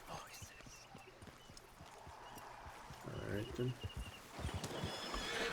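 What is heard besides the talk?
horse hooves clip-clopping in video game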